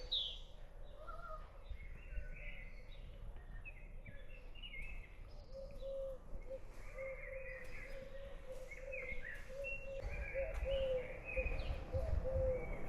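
Several birds chirp and call in overlapping phrases in a park on Lopud island near Dubrovnik, with a repeated cooing note underneath and a soft outdoor hum in the background.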